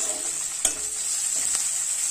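Onion and garlic paste fries in a pan with a steady, high sizzling hiss, broken by two short scraping strokes of a spatula.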